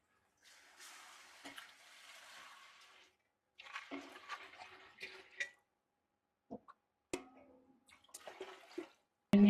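Water is poured into a pot of dal over spices and masala paste frying in oil, coming in several short, soft splashing gushes separated by silent gaps.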